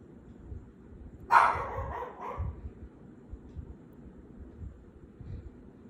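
A single small dog lets out a short burst of sharp, high barks, a few yaps close together, then quiet room noise with faint distant sounds.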